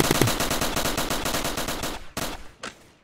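A drum gun fires in the Roblox Fortnite Simulator game as a rapid, loud automatic burst lasting about two seconds, followed by a few separate single shots.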